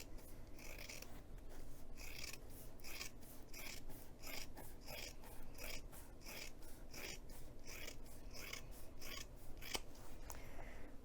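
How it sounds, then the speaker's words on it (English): Scissors trim a fabric seam allowance on a crossbody bag, a quiet, close series of rhythmic snips repeating steadily about twice a second. "cut it approximately in half"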